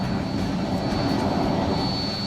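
A private jet coming in to land in fog over New York, with a steady, loud jet engine roar and rushing air that stays even throughout, with no voices.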